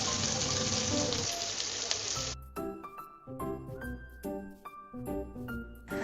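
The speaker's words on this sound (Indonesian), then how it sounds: "Kita masukkan, lalu kita tumis sampai tercium bau harum." Bay leaves, galangal and red and green chilies sautéing in a pan, a loud steady sizzle for the first couple of seconds, then fading into scattered clinks and tonal kitchen clatter.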